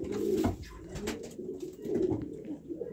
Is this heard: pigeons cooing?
yes